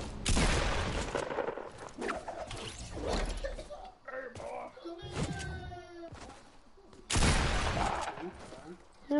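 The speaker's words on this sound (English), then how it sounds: "I shot and it's another hit marker, Jordan." Video game gunshots crack out in several loud bursts amid clattering game effects, with voices talking in between.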